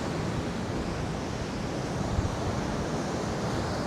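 Surf washing onto a beach at the end of Geary Street in San Francisco, a steady broad rush of breaking waves with wind buffeting the microphone, no voices.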